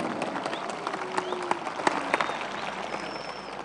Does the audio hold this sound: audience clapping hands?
yes